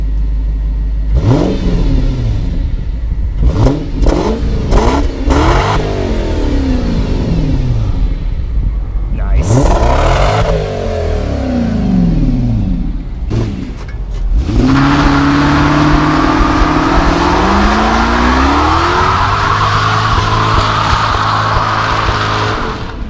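Turbocharged 500HP Lexus V8 car accelerating hard on a drive, with loud repeated revving sweeps and gear changes, then a sustained rising engine roar close by.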